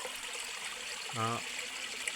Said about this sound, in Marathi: आपण पाहू शकतो हे खळखळ वाहणारे झरे